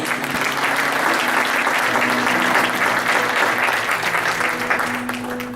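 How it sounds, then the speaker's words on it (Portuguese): Sustained applause from a church congregation at an Assemblies of God service, dense clapping holding steady for several seconds with a faint tonal hum beneath, no talking over it. "Dá um aplauso para o Senhor."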